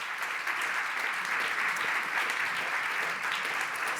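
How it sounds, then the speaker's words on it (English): An audience applauds at the TechChill Founders Battle startup event, a steady wash of crowd clapping held at even volume for four seconds, somewhat distant and without talk. "Round of applause."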